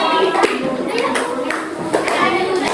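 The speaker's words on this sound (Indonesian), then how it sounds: "tepuk tangan dong buat teman-teman" Children in a fifth-grade classroom clap for their classmates during a solar system lesson, a loose patter of small hands with a few sharper claps, while a voice speaks over it.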